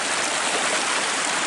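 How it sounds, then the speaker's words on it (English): A side creek rushes among big boulders at a gold-prospecting claim, a steady, broadband, hissing flow of water heard alone and close. "We have a side creek coming in."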